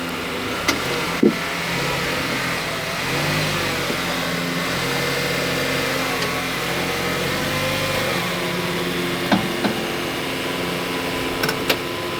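A car's engine idles and pulls steadily as it is driven slowly up onto ramps for an oil change, a continuous mid-level rumble close by with a few faint clicks and knocks.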